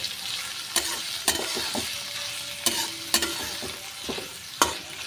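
Onions frying in a pan until reddish for a wedding-style tarka, with a soft steady sizzle under occasional sharp scraping stirs of a spatula against the pan, close and fairly quiet, with no talking.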